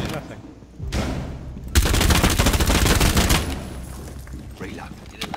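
Automatic gunfire in Rainbow Six Siege sprays a wall in one loud, dense, sustained burst lasting a couple of seconds, preceded by a shorter burst and followed by quieter game noise.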